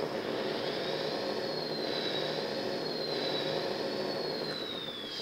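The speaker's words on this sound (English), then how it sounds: "That's the V8 engine." A steady synthetic V8 engine drone from an RC truck sound system, with a slowly wavering high whine, constant and loud, with no talking.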